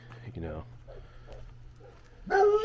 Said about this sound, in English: The local dogs are not taken to me very well.